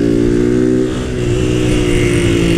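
Honda Titan 160 motorcycle with a modified exhaust and no air filter, engine running steadily close by, a loud, deep, continuous rumble with a brief dip partway through.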